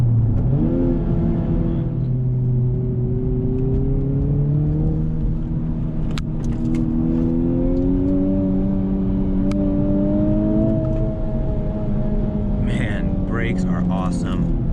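A 2020 Honda Civic Type R's engine revs and pulls steadily, pitch climbing through gear changes, loud and close throughout, with a voice briefly audible over it.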